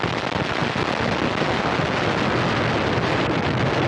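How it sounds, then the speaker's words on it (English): An Antares rocket roars on the pad at Wallops Flight Facility with engines at full thrust, a loud, dense, continuous broadband rumble heard from a distance, with no talking. "We have engine ignition."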